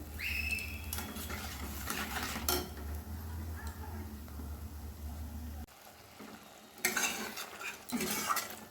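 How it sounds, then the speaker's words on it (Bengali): Spice paste for a katla fish curry fries and is stirred in a pan, with repeated scraping stir strokes over a steady sizzle and low kitchen hum, loud and close with no talking. "দিয়ে এবার 3-4 মিনিট সময় নিয়ে মশলাটা খুব ভালোভাবে কষে নেব।"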